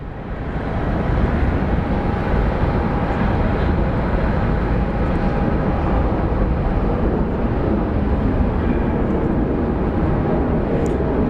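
An airliner landing at Phoenix Sky Harbor International Airport gives a loud, steady, broadband jet roar that holds unbroken for the whole stretch, close and dominant with no pauses.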